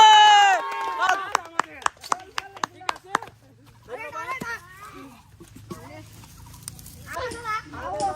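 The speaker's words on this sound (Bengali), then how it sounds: "ধন্যবাদ তালি তালি তালি তালি" Applause and clapping from a village crowd at a traditional Bengali pot-breaking game (haribhanga), heard as a run of sharp, evenly spaced claps after a voice, with talking and crowd noise continuing around them.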